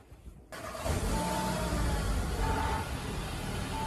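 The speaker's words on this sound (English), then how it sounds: "this is what the car sounds like before the downpipe." A 2020 Audi A3 with its stock downpipe, before a catless ARM unit is fitted, starts up and settles into a steady, fairly loud idle, heard alone and close by.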